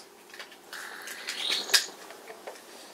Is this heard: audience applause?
no